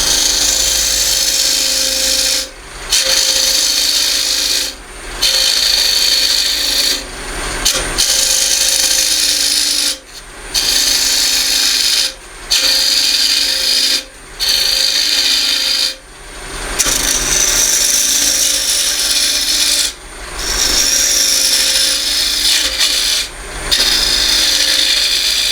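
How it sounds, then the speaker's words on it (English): A small bowl gouge cuts a wooden box base on a lathe, making a loud, continuous shearing hiss close by, broken into repeated passes by brief pauses every few seconds. "I'm just using my small bowl gouge for this."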